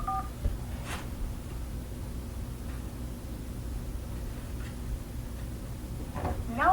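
Telephone keypad tones pressed to enter a PIN during an automated phone banking call, a few short beeps at the start, middle and end over a steady low hum and hiss.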